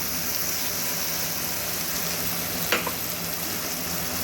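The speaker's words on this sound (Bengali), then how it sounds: "আলু আর ফুলকপি ভাজা তেলের মধ্যে দিয়ে দিচ্ছি গুলিয়ে রাখা মশলাটা সাথে দিয়ে দেব" Potatoes and cauliflower fry in oil with a tomato and green chilli spice paste, a steady loud sizzle throughout with one brief clink of a utensil near the end.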